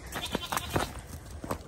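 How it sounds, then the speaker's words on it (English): Several goats bleat close by in short, overlapping bursts, a quick ragged run of cries at moderate volume. "Look out, goats."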